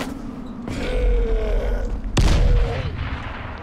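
A grenade is lobbed in the zombie video game Dying Light, followed by a sharp, loud explosion with a low rumbling boom that decays over a second or so, amid game background noise.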